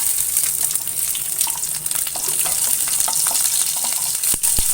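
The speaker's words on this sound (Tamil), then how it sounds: "அடுத்ததாக நம்ம பூண்டு போட்டுக்கலாம்." Garlic fries in a hot tempering of mustard seeds, cumin and fenugreek, giving a bright, steady sizzle up close with small crackles and one or two sharp pops near the end.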